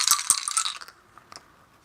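Dice roll and clatter on a table during an APBA golf tabletop game, a quick burst of bright rattling that settles into a couple of faint taps, close and alone.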